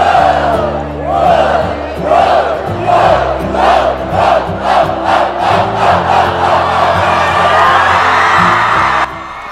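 A high school student section at a basketball game cheers loudly in rhythmic chant bursts, roughly two per second, as a roaring crowd chorus that breaks off sharply near the end.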